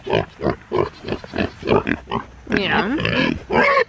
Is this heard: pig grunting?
yes